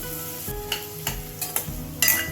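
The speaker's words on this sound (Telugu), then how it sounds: "మళ్ళీ కాసేపు వేయించుకుందాం." Sliced bitter gourd fries in oil in a pan with a steady close sizzle, broken every half second or so by scraping stirs of a spoon against the pan.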